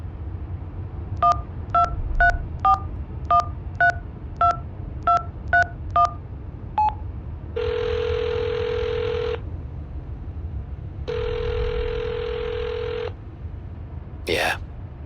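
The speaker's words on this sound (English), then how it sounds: "Dial the number." Phone number keyed in during the Hitchhiker mystery game: ten quick evenly spaced dial beeps, then two long steady tones with a pause between them, ending in a brief rising chirp, clear and close.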